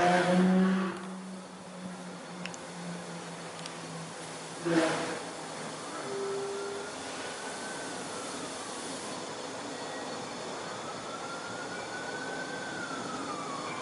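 Compressed air flowing through a hose to inflate a pipe test plug: a steady, continuous hiss holding at a constant level for many seconds, with a faint voice near the start.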